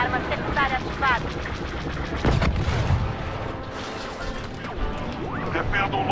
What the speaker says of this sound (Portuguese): Arma secundária ativada!